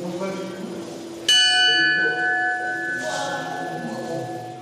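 A church bell at the Saint Petersburg Orthodox Theological Academy is struck sharply and rings out with a long, bright decay. A voice speaks underneath the ringing.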